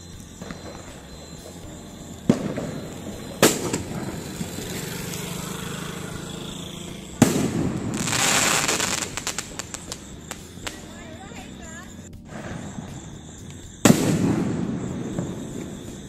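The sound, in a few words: Diwali firecrackers bursting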